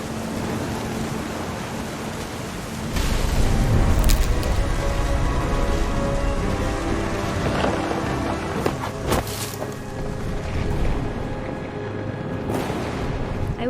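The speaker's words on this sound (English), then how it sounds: "The thunder sounded much too close and full of angry power." A thunderstorm in the game What Remains of Edith Finch: steady heavy rain hiss grows louder after a few seconds, with deep rumbling thunder and scattered sharper cracks.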